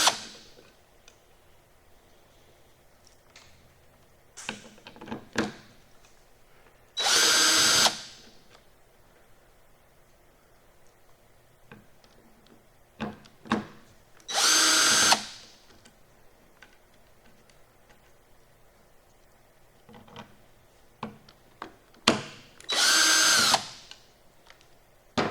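Power drill backing screws out of a Dodge 48RE transmission spacer plate from a 2006 Ram, three separate loud whirring bursts of a couple of seconds each, with quiet clicks and handling noises between them.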